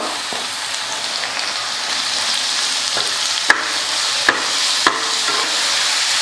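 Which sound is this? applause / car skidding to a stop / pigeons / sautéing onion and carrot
sautéing onion and carrot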